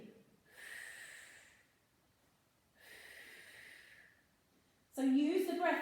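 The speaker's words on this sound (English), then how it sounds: "I'm breathing." Pilates exercise breathing: two slow, audible breaths, each about a second long, close and soft with quiet gaps between them, followed by a brief louder sound at the end.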